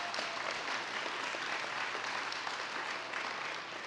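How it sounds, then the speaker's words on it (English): Audience at a U.S. Senate debate in North Dakota gives a round of applause, a steady, even wash of clapping from a crowd, moderately distant and unbroken throughout. "Give yourselves a round of applause for coming out tonight"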